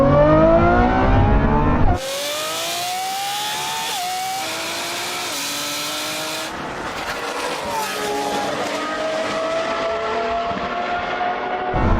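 A Koenigsegg and a BMW race from a rolling start at about 40 km/h in second gear, engines revving loud and high with rising pitch sweeps and an abrupt shift in tone partway through.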